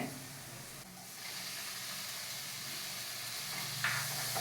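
Chopped tomatoes go into a hot pan for an egg stir fry, giving a steady, fairly quiet hiss and sizzle that holds throughout with a brief louder flare near the end.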